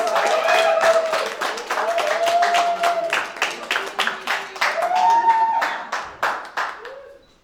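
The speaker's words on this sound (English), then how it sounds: "Plus chaleureusement s'il vous plaît, applaudissez." Audience applause for a prize winner at a soup joumou taste-off community event, starting as a fuller round of clapping and thinning into a few individual, distinct hand claps near the end, with faint voices underneath.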